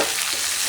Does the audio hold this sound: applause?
no